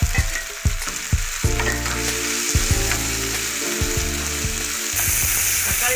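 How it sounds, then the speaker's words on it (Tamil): Tomatoes sauté and sizzle in a hot pan while cauliflower gravy is cooked, a steady frying hiss with occasional stirring scrapes and clicks, close and continuous without talk. "தக்காளி நல்லா வதங்கட்டும்."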